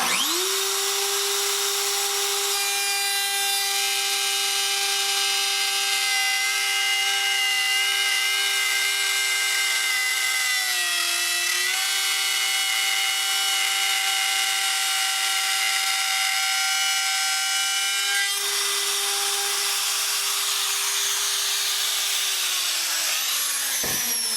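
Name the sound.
router cutting a groove in wood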